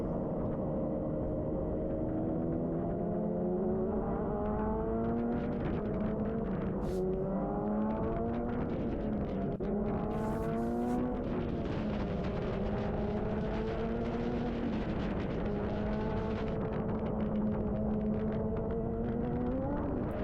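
A Radical race car spins and recovers during a race at Sonoma, its engine note rising and falling through repeated revs and gear changes, loud and continuous with a high whine and no voices.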